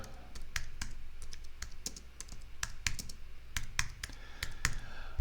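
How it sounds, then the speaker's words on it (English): Typing on a computer keyboard while entering a search for removable hard drives, with a steady run of sharp, close key clicks in uneven rhythm and no voices. "I'm just going to type in removable."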